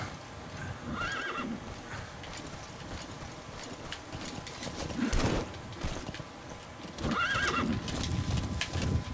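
A horse in the video game Metal Gear Solid V: The Phantom Pain whinnies twice, loud and close, with hoofbeats clopping steadily underneath and a brief rumble in between.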